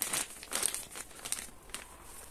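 A transparent plastic bag crinkles and rustles in several bursts during potato planting, loud and close, with no talk.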